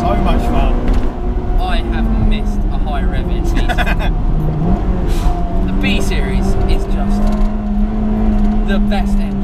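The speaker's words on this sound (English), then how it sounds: "I have missed a high rev in B-series." A Honda Integra DC2 Type R with a B-series engine revs high, its loud, steady engine drone running under the hiss of road noise for the whole stretch.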